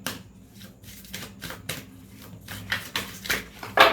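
Tarot cards handled and shuffled close by during a reading, a run of irregular papery flicks and riffles that grows busier and louder toward the end, with no voices.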